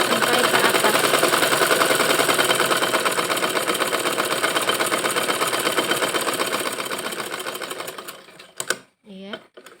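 A sewing machine runs steadily, stitching a skirt seam closed up to the top with a fast, even mechanical whir that fades, then stops in a few short bursts near the end.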